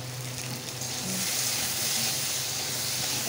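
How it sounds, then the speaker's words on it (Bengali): Water spinach (kalmi saag) frying in a pan with salt and turmeric, giving a steady close sizzle and hiss that swells slightly louder partway through, with no talking. "একটু ভেজে নিব।"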